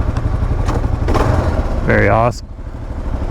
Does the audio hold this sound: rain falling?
no